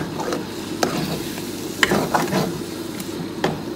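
Vegetables with a little tomato paste stirred and dry-roasted in a home kitchen pan, giving a steady low sizzle with scattered scraping clicks from the spoon, close and alone without talk.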